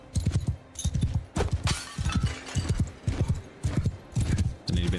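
A horse gallops in Mount and Blade 2 Bannerlord, loud close hoofbeats pounding in a steady, repeating triple rhythm throughout.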